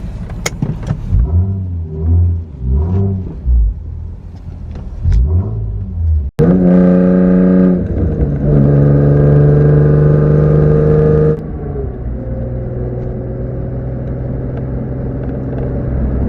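A Nissan 350Z on a drive gives a low exhaust rumble with uneven throttle pulses, then a sharp rev that climbs and holds before settling back into a quieter cruising drone.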